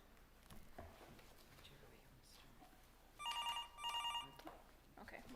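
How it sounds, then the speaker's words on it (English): A telephone rings with an incoming call during a council session, two bursts of electronic ringing in quick succession over a quiet room with faint voices and shuffling. "Okay, we'll take this phone call."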